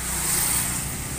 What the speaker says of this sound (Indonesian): kita akan coba hidup motor ini